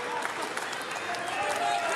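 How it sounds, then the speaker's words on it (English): A wrestling crowd applauds steadily throughout, a broad wash of clapping and crowd noise while a commentator talks over it. "give him a round of applause"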